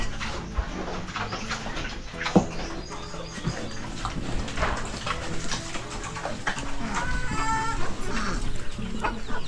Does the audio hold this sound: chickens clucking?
yes